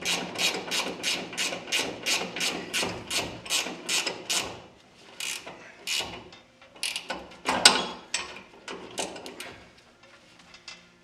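Ratcheting wrench snugging the lower ball joint bolts on a 1960 Pontiac, 7/8 and 3/4 sizes, as a rapid, even run of close metallic clicks gives way to slower, irregular pulls and clanks, with no talk.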